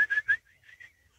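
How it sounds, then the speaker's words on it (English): A person whistles a command to an ox-drawn plough team in the field, two strong rising whistle bursts followed by softer, fading whistled notes, close and alone without talk. "I've just whistled"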